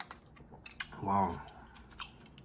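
Pho noodles being chewed and slurped up close, with soft wet mouth sounds and a brief hummed vocal sound partway through.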